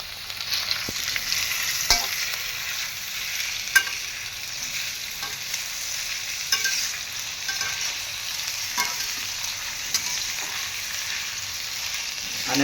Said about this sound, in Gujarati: शिमला मिर्च, हरी मिर्च તેને થોડી વાર ફ્રાય થવા દેવાનું